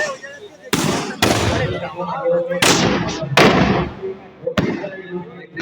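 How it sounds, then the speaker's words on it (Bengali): Durga Puja fireworks burst in a rapid string of loud, sharp bangs, about five close cracks spaced irregularly, each trailing off briefly, with voices in the crowd between them. "এরপরে আতসবাজির একদম দেখতেই পাচ্ছ পিছনে এই দেখো"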